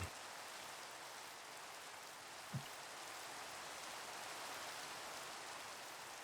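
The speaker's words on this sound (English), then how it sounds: "Rain." Steady, soft rain hiss fills a video game scene, an even wash of falling drops with one faint low thump partway through and no talking.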